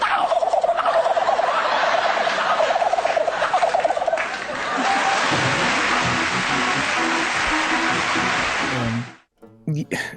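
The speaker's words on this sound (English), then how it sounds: "this is your 4th place gobble. This is the Eastern turkey." A long, rapid gobbling call from an eastern wild turkey, loud and close, rattling on for several seconds before abruptly cutting off.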